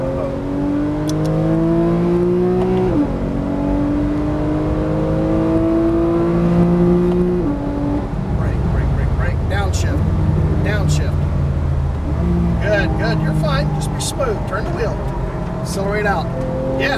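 A 2012 Porsche 991 Carrera S accelerates hard on a track, its engine rising in pitch through several gear changes and then revving under a steady drone while an instructor talks over it.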